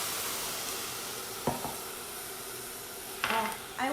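Vegetable broth goes into a hot pot for Caribbean asopao, giving a soft steady sizzle and hiss with a few sharp stirring clicks and splashy bursts near the middle and end.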